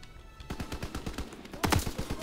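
Rapid automatic gunfire in the World War II shooter Call of Duty WWII, with a steady rattle of shots followed by a louder, closer burst, and no talking.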